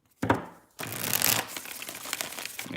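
Tarot cards shuffled by hand during a live reading: a short riffle, a brief pause, then a longer dense flurry of papery flicking and rustling, close and fairly quiet, with no talking.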